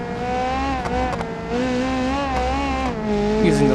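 A sketchy 1990s touring car laps the Nürburgring Nordschleife in BeamNG, its engine droning steadily with rising and falling revs through the corners, loud and close with no talk over it.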